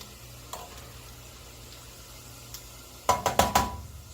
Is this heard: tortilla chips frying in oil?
yes